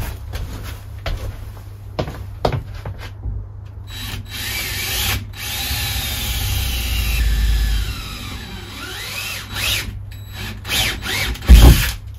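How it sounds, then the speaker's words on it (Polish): A power drill bores briefly through the sheet-metal body of a DIY camper van conversion, loud motor whine rising and falling between short bursts, clicks and handling knocks. "Po prostu nawierciłem krótko, tylko dosłownie 5 mm, żeby tylko przewiercić blachę"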